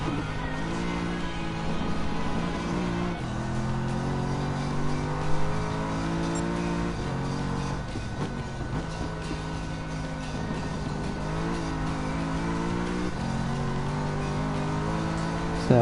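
An SLS race car engine in GT Sport revs and pulls through repeated gear changes, rising whining tones climbing then dropping in a steady cycle of acceleration over a continuous drone.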